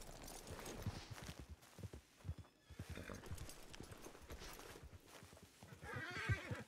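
Horses in a Western outlaw roleplay video game whinny and neigh while hooves clip-clop steadily throughout, with busy overlapping game sounds and a louder burst of activity near the end.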